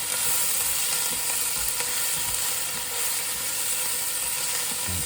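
Chillies fry in a pan with softening onions, garlic and fresh ginger, giving a dense, steady sizzle close up with faint stirring scrapes underneath.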